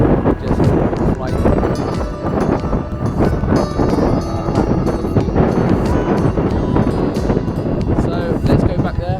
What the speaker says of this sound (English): It's just a bit too windy, I think.